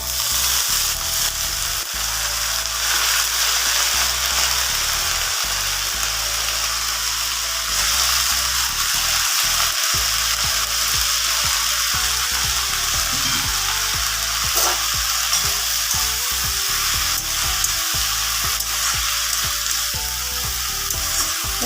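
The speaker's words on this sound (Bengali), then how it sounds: "রসুনটা ভেজে নিয়েছি এবারে এর মধ্যে শাকটা দিয়ে দিচ্ছি" Leafy greens hit a pan of frying garlic, and a loud, steady sizzle carries on throughout with occasional stirring scrapes, close by and without any talk.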